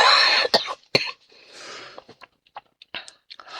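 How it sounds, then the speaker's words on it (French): One person coughs close by, a few sharp bursts early, then quieter scattered throat noises and small mouth sounds trail off. "Donc je vais tousser un petit peu."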